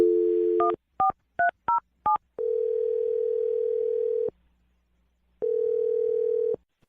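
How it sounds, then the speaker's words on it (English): A string of dual-tone keypad beeps as a telephone number is dialed, each short and evenly spaced, followed by a long steady tone, a pause, and another steady tone. "We're gonna dial her phone number right now"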